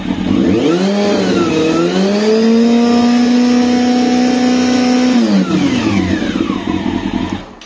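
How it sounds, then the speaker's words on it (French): A car engine rises from idle into a sustained rev, holds at a high steady pitch for several seconds, then drops back down, loud and close throughout. "Le moteur au ralenti, si je mets du gaz."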